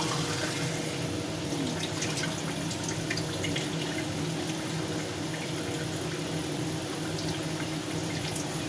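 Water pours steadily and continuously into homemade Rajasthani dal baati dough, a close, even gushing wash lasting throughout with no talking.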